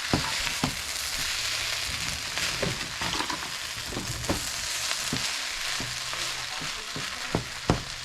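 Fried rice with green onion sizzles steadily in a pan while it is stirred, giving a continuous close hiss broken by frequent scraping clicks of the utensil, with no voices.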